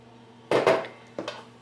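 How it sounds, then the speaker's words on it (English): A fork scrapes and clinks against a pan while mixing chocolate wacky cake batter made without eggs, butter or milk, two short bursts of clatter close up with a steady low hum underneath. "now we're using our same fork again to mix everything"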